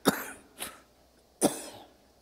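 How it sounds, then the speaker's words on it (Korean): A preacher at a dawn prayer service coughs three times in short, separate bursts, close and fairly loud, with brief quiet gaps between them and no talking. "제가 이런 기침이 난다는 게 참 이상한 건데"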